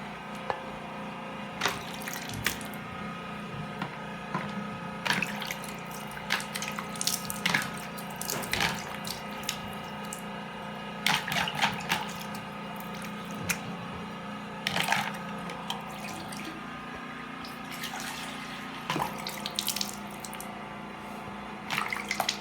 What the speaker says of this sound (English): you can go wash it off with a normal water